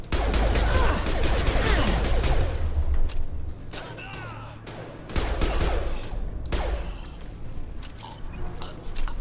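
Bursts of rapid gunfire and loud impacts in the video game Mass Effect 2, coming in dense volleys with brief gaps between them, with faint background action noise.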